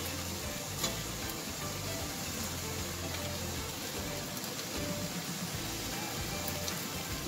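Onion tipped into coarse minced meat frying in a pan, giving a steady, close sizzle and crackle that hisses on evenly without pause.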